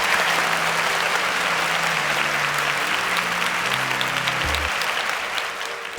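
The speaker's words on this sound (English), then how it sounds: "Please, can we give them a round of applause as they exit?" Studio audience applauding contestants as they leave a quiz competition stage, steady dense clapping throughout, a low musical tone running underneath and fading near the end.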